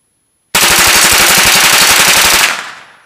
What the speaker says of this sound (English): Doing another 30-round bump fire.